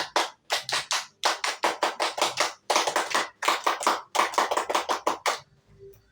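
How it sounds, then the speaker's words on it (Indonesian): A group performs the Pramuka scout clap twice, sharp hand claps in quick rhythmic bursts with brief gaps between phrases, loud and close, ending in near silence. "2 kali tepuk pramuka."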